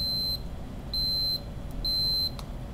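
Fluke multimeter in continuity mode giving three steady high-pitched beeps, each about half a second long with short gaps between, close and clear over quiet room noise.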